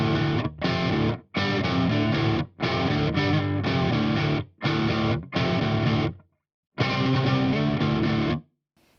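Electric guitar run through a BIAS FX amp model with delay and reverb switched off, playing loud, distorted chords in short strummed bursts separated by abrupt stops, with no talking.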